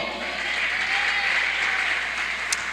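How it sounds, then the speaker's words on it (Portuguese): A church congregation clapping together, a sustained and fairly loud even wash of applause filling the whole space without pause. "Aplauda o Senhor."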